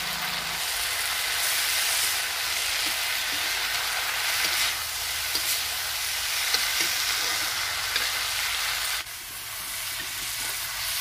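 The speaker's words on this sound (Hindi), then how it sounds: "अब सभी मसाले और सब्जियां अच्छे से भून गई हैं।" Ground spices, coriander powder among them, and vegetables for dal sizzle and fry steadily in a pan over a village clay chulha, a close, continuous hiss with faint stirring scrapes and no voices.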